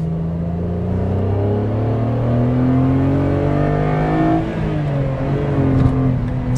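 A Renault Clio V6 engine pulls hard under acceleration, its loud droning tone climbing steadily in pitch through the revs, then dropping briefly with a gear change before rising again.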